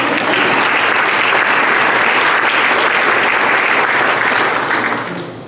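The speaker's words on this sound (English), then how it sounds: "You can clap now." An audience at a city State of the City address claps loudly and steadily for several seconds before the applause tapers off at the end.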